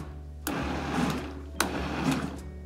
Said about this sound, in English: I'm gonna put the top on and we're gonna lightly blend these